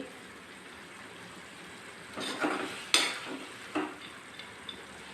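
Orange-juice chitranna mixture sautés in a pan, a soft low sizzle broken by a few short bursts of stirring and scraping, fairly quiet overall with no talk.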